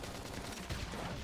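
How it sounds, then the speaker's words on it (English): Gunfire from combat in the video game Xenoblade Chronicles X, a dense, steady burst of shots lasting over a second, loud and continuous with a slight swell midway. "Now, topple them with some gunfire."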